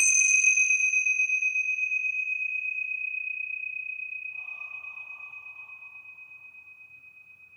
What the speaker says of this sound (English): let's go ahead and ring the tincture bells here